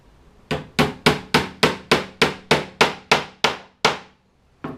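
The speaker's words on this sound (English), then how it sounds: "I could use a bigger hammer, but it depends." Twelve sharp, evenly spaced strikes of a track hammer ring out loud and close, each blow decaying quickly before the next, followed by one more hit after a pause, while building an O gauge model train depot.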